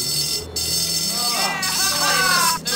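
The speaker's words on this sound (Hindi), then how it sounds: "हम फायर अलार्म बजाते हैं." A fire alarm set off in a school dormitory in the video game Bully rings as a steady, buzzy electronic tone through the whole stretch, with game voices and commotion rising over it partway through.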